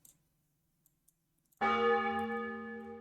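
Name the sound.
quick bell sound effect for item pickup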